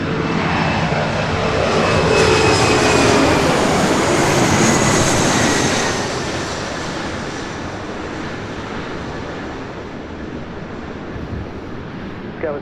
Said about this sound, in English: Next arrival here on the north side, American Eagle Sky West, flight 3041.